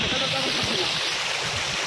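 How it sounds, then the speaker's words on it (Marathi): A small stream flowing beside a hiking trail to Palse waterfall in Tamhini Ghat, a close, steady rushing and gurgling of water that fills the short moment. "ते तर छोटा झरा गावलेला आपल्याला"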